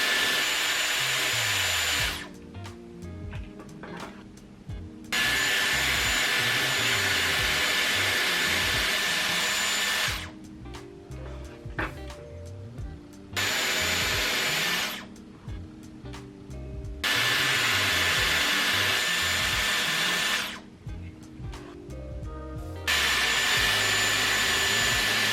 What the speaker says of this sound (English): I'm gonna go through and quickly air wrap this side.